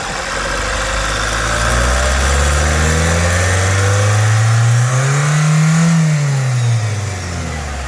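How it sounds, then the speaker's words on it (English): A 2016 Renault Kadjar Mk1 with a 1.6 diesel engine revs up from idle, its low rumble swelling and falling in a steady rise then settling back, loud and close with exhaust note and no talk. "We got a bit of the exhaust as well if you rev it up"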